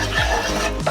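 Sauce stirred in a pan just off the heat for a duck dish, a steady close scrape and swish of the spoon over a soft lingering sizzle, continuous for under a second.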